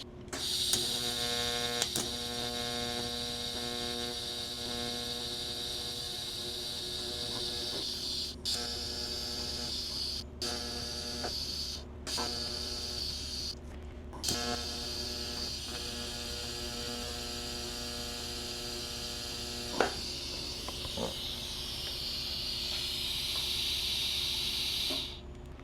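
Welding on a cracked gas tank from a 2008 Harley Davidson Fatboy, a steady hissing, crackling arc that runs almost continuously with a few short breaks, close and loud over a constant electrical hum.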